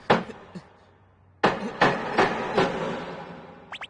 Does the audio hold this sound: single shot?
no